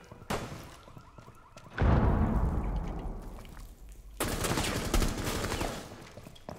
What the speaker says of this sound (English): why are you shooting on me?